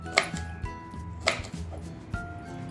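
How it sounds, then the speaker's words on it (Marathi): A knife chops okra into thick slices on a board, giving several close, distinct knocks spaced unevenly, quiet and without talk. "भेंडी घ्यायची नंतर हे असं त्याचं हे वरचं काढून थोडीशी जाडसर चिरायची"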